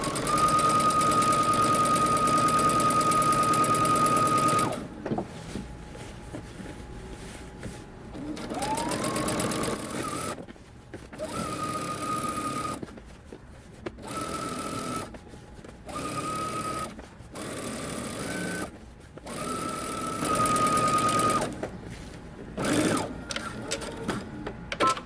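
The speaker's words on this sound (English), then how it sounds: "I'm just going to understitch as much as I can" A sewing machine understitches a dress facing in a series of short and longer bursts of steady whirring, stopping and restarting several times, close and alone.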